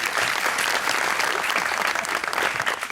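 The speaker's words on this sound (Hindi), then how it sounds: "तालियां इनके सवाल के लिए" A studio audience at a talk show bursts into loud, sustained applause, a thick, even patter of many hands clapping throughout.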